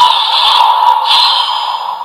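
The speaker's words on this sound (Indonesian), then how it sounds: "Jadi langsung aja kita nyalain Gabuga Blade ini." Kamen Rider Gavv DX Gavv Gablade toy weapon powering on, giving a loud, sustained electronic shimmering tone with a bright high ring that holds steady for about two seconds.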